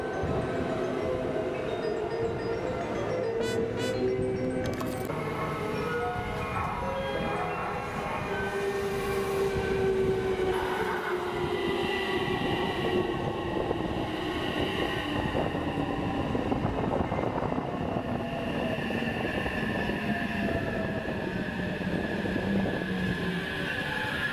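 A Hanwa Line train near Nagai Station rumbles along during a signal fault, with a long horn sounding near the start, its engine pitch gradually sinking as it slows down, continuous and fairly loud.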